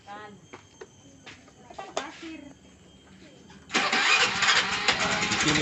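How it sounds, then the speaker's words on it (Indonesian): A motorcycle engine is started, catching suddenly into a loud, steady running roar that continues to the end, preceded by clicks, knocks and brief mechanical noises while someone works on it, with speech in the background. "langsung saya tes hidupkan motornya"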